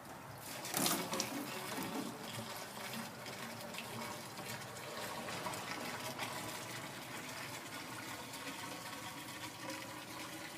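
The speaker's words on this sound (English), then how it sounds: "we're going to pour some clean water in here" Clean water is poured into a water filter tank, starting with a loud gushing splash and settling into a continuous close trickling fill that runs steadily throughout.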